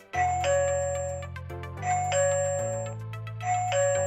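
A Hikvision AX Pro alarm's door chime rings three times in a row, each a bright two-note ding-dong over a steady low hum, close and clear with no voices.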